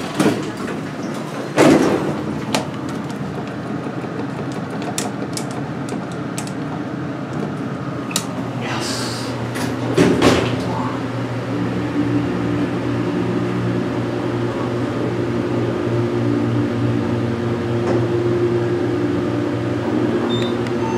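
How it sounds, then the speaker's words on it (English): An OTIS hydraulic elevator at a Sears and Roebuck store: a couple of door thumps and a sliding rumble early on, then a steady low mechanical hum and drone of the car riding, fairly close. "this is going to be the final ride on the elevator here at the Sears and Roebuck store"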